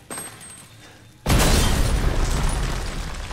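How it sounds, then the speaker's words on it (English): Pipe bomb detonating in the Resident Evil Village video game: an abrupt, loud, close explosion that hits after a quieter stretch and holds as a dense, roaring wash of noise to the end. "Oh, pipe bomb."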